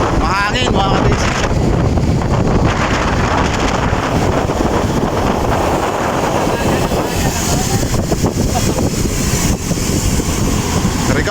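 Strong wind blows steadily during a bike ride on the Mt. Samat route in Bataan, a loud, constant roaring rumble and microphone buffeting that fills the whole stretch, with a voice speaking briefly over it.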